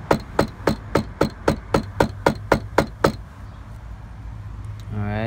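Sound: hammer tapping metal through cloth

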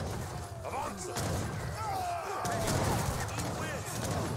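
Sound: cannon and gunfire in Age of Empires 3 battle, video game

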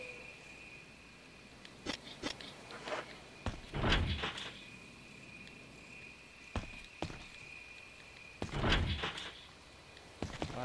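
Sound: door in Resident Evil video game

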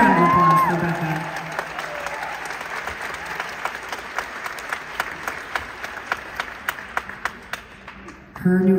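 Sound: applause

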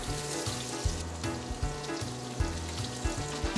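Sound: redfish sizzling in hot skillet with butter and oil

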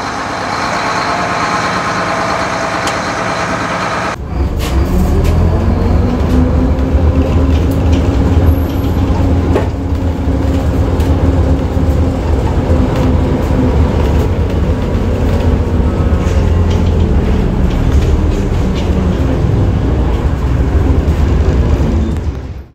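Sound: AEC Routemaster London bus engine while driving

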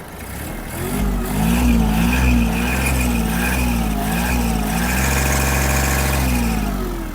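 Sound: Kubota GL-201 engine revving up

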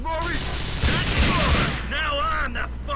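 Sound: shotgun gunfire in video game GTA IV

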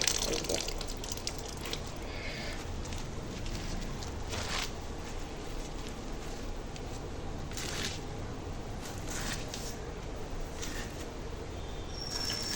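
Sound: water dripping from washed greens in a basket

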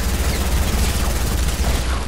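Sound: submachine gun fire from a video game

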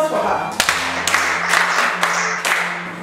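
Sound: students clapping for a classmate

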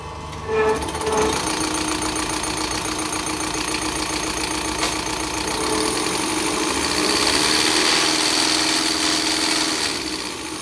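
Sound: Ford 6610 tractor engine running

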